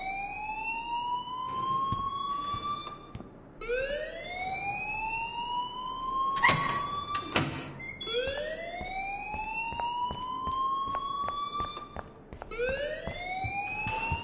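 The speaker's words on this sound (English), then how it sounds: "please turn off that alarm" Looping electronic siren-like alarm in a video game, rising wails repeating every few seconds at steady loud level, with a few brief clicks and bursts between cycles and no talk.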